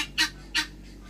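Two short, sharp squawks from a bird at a farm animal sanctuary, close and loud, spaced about a third of a second apart against a faint steady hum.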